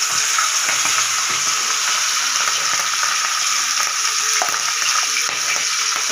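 Catla fish heads fry in a pan with oil, giving a loud, steady, crackling sizzle that runs continuously throughout, with no talking and only faint clinks of utensils beneath.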